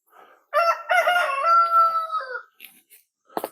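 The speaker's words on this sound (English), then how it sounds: "I think it's chickens." A rooster crows once, loud and near, in a wooded outdoor spot, its long call trailing off. A few soft clucks and rustles come before it and after it.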